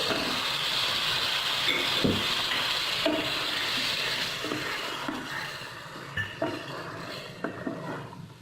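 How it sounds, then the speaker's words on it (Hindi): Masala paste frying with pieces of fried chicken in a pan over the stove, a steady close sizzle running throughout with occasional clinks of a utensil against the pan. "मसाला हमारा बड़ा अच्छे से फ्राई हो रहा है।"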